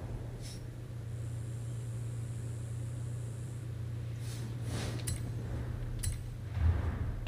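A Honda car in Forza Horizon 5 hums steadily at a low, even engine drone, with a few faint clinks and ticks scattered over it and a slight swell near the end.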